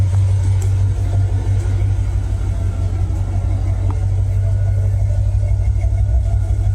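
A 2021 Corvette engine running outdoors, a steady deep low rumble at idle, close and constant throughout with no talk.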